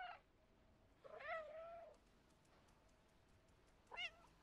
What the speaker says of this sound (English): I feel like meowing is going to come in handy sooner or later